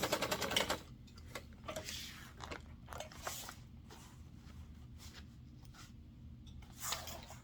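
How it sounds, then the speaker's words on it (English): A sewing machine stitches across the top of a zipper pocket in a quick burst of rapid, close needle clatter at the start, followed by quieter intermittent clicks and handling noises at low volume. "I will sew across the top one more time because it looks like it's a little bit close"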